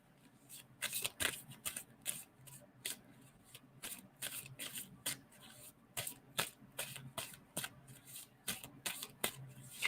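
A deck of playing cards is shuffled repeatedly, crisp riffling bursts and flicks coming in quick irregular runs close to the listener, with brief pauses between them and no talking.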